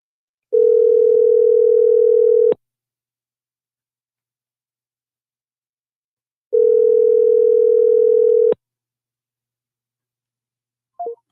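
Steady telephone dial tone sounds twice for about two seconds each, separated by silence, while a call is being returned, followed by a short faint click near the end.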